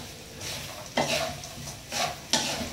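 Pork cracklings and chili paste sizzle in a hot pan while a utensil scrapes and tosses them in several quick strokes, close up with no talking.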